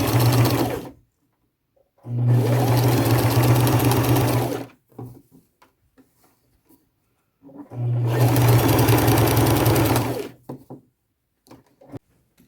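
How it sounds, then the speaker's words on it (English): Sewing machine stitching elastic shirring with orange thread, running in two long steady bursts of several seconds each, loud and close, separated by quiet pauses with small handling clicks. "I will sew it until I get to there"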